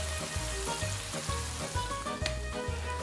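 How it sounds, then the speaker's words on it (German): Green asparagus sizzling and frying steadily in a pan with a splash of wine, loud and continuous, with rhythmic stirring scrapes repeating underneath. "Es kommt wieder ein Schluck Wein jetzt zum Spargel dazu."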